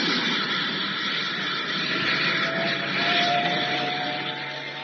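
Old-time sci-fi radio drama sound effect of a spacecraft lifting off: a steady, loud roaring rumble with a rising whine that swells and holds throughout, alone without voices.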